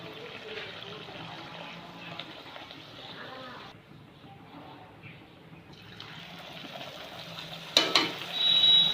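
Luchi, a puffed wheat bread, fry in a shallow layer of low hot oil, giving a steady broadband sizzle and bubbling at a moderate level, with a brief louder hiss and splash near the end.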